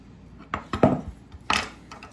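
A chef's knife handles an onion on a board, giving three or four sharp, short knocks and taps spaced unevenly over two seconds, close and fairly faint.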